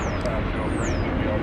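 An American Airlines Boeing 737-800 arriving from El Paso at DFW Airport gives a steady, loud broadband engine roar, with a thin high whine sweeping across the top.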